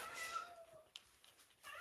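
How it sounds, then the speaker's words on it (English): A cat meows from outside the room, one drawn-out, faint, slightly distant wail followed by softer short calls, with a quiet room around it and no talking. "There's a cat."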